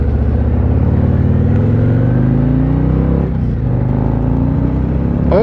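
A 2024 Harley-Davidson Street Glide touring motorcycle rolls on the throttle, its engine note climbing steadily in pitch as it revs hard and up close, with no talking.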